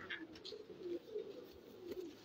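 Pigeons coo repeatedly in a breeder's loft that keeps golden pigeons, giving low, rolling calls in a loose rhythm across the whole stretch, close by and fairly soft, with a few brighter chirps early on.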